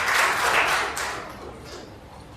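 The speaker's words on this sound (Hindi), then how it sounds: "जोरदार तालियां तो बनती है।" Brief burst of audience applause at a public event with a chief minister, fairly loud at first then fading, ending in a sharp knock.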